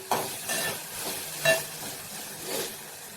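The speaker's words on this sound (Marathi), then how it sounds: "आता हलवून घेऊ" Drumstick pods, tomato and toor dal stirred in a pan, a few scraping, rustling strokes of a spoon over a low, steady sizzle.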